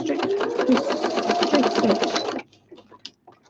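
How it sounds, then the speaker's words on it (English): A sewing machine runs a straight stitch across fabric in a rapid, steady whir for about two seconds, then stops, leaving a few faint clicks and handling sounds. "I'm just gonna go across that again because that's not completely sewn, but instead of doing a zigzag stitch, I'm just going to do"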